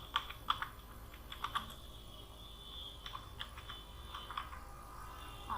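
Faint keystrokes on a computer keyboard tap out an irregular run of clicks, bunched in small bursts with short gaps, heard alone over a low, steady room hum.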